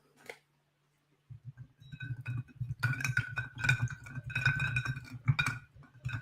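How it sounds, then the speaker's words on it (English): Ice cubes clink and rattle in a cocktail glass at close range, a quick cluster of light chinks after a pause, then a longer run of irregular clinks over a faint low hum. "A little bit of clinking ice ASMR."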